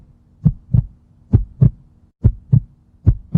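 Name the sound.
normal human heartbeat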